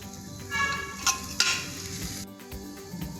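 Garam masala powder gets stirred into a sizzling mixture of washed rice in a hot pan, with a steady fry hiss, a few scraping spoon strokes and light metal clinks close by.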